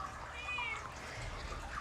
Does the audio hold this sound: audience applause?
no